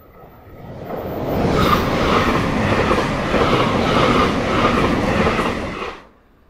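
JR Kagoshima Line Limited Express Sonic train rushing past close by, a loud swelling roar with rhythmic wheel clatter that builds quickly, holds for several seconds, then cuts off sharply.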